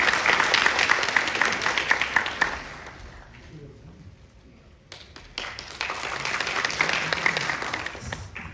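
A room full of people at a construction infrastructure forum in the National Assembly claps loudly, fades to quiet for a moment, then breaks into a second round of sustained applause.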